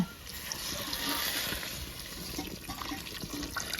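Water trickles and splashes steadily into a mango and curd curry mixture for mango pulissery, a continuous close liquid pour with faint drips and no talking.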